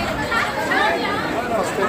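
Crowd bustle on a railway station platform built in 1916 at Kachiguda, Hyderabad, as a train arrives: a dense, steady wash of many overlapping voices chattering close around, with no single voice standing out.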